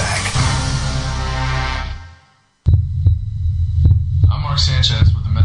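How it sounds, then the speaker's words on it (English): A human heartbeat thumps as deep, evenly spaced low pulses under a steady hum, following a brief silence after a stretch of talk. "This is the actual sound of my heartbeat."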